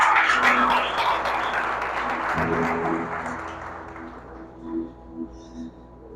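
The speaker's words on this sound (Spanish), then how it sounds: "le brindaría un fuerte aplauso al Señor" A church congregation applauding, a dense wash of clapping that fades out over several seconds, leaving a sustained organ or keyboard tone and a few scattered claps at the end.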